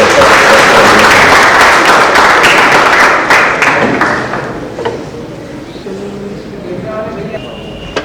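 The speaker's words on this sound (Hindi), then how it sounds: "आइए जोरदार तालियों से प्रोफेसर चतुर्वेदी साहब।" An audience claps loudly for Professor Chaturvedi at his 75th birthday celebration. The dense, sustained applause fills the room, then thins and fades out over a few seconds, leaving quiet room sounds.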